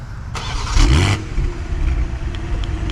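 A 2024 BMW X3 M40i engine turns over on remote start, a brief cranking surge settling into a low rumbling idle through the dual exhaust, heard nearby outdoors with no talking.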